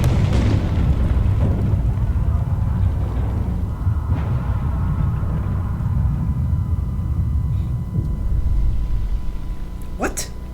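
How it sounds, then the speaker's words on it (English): An explosion in the video game Frostpunk rolls out as a deep, heavy rumble that fills the whole stretch and slowly fades, close and loud, with a brief sharp tone near the end. "here comes the explosion"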